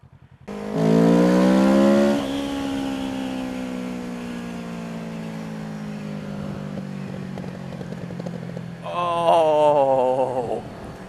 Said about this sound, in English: I'm a sucker for a good exhaust note